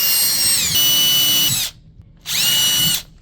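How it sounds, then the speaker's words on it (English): A power drill drives drywall screws into a wall while rotating floating shelves are mounted, whirring loud and close in two sustained bursts separated by a brief silence. "screw them in using our drywall screws"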